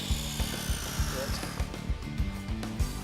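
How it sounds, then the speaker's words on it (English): A miter saw cuts a miter through a wooden piece for a bulletin board project, giving a steady buzzing motor drone with repeated rhythmic pulses, close and fairly loud. "All I'm going to do is cut the other miter over here on the miter saw."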